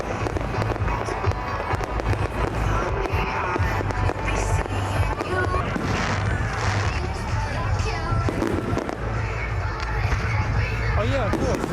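Fireworks bursting continuously at a family firework night in Hove, with dense crackling and booming reports over a murmuring crowd.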